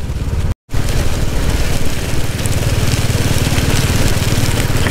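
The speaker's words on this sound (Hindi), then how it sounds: "देखो जी बारिश आ गई" Rain falls in a dense, constant hiss during a motorbike trip in Himachal Pradesh, mixed with a low, rumbling engine drone and a brief dropout near the start.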